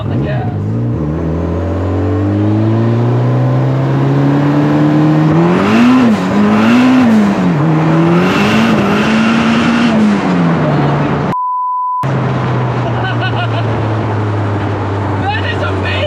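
A big-turbo Polaris Slingshot with a manual transmission accelerates hard, its engine note rising and swelling loudly up close, then dropping off briefly before settling into a steady drone as people talk.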